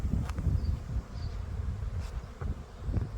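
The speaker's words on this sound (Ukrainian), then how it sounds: "бджоли працюють" Honey bees buzz steadily around the hives at an apiary set up for pollen collection, a close, continuous low drone with a few individual insects passing louder near the recorder.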